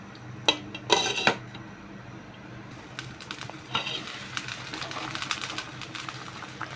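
A metal lid clatters back onto a cooking pot of chicken tinola with bottle gourd and green chili, giving a few sharp clinks close by, followed by softer kitchen clatter and light stirring.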